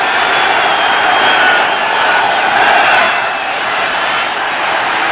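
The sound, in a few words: loud football stadium crowd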